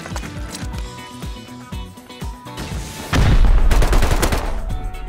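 Rapid gunfire in the survival video game Rust, loud and dense, with shots from an AK rifle cracking in quick bursts under game noise, then turning into a heavier, sustained volley partway through.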